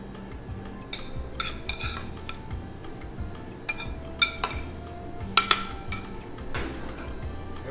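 A spoon scrapes a crab, corn and jalapeno mixture onto a plate, giving light ticks, taps and clinks of metal on dishware at an uneven pace, close by and fairly quiet.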